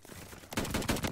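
Shots from an M1916 rifle in the Call of Duty: Vanguard video game, a quick run of several sharp reports close together after a brief quiet moment.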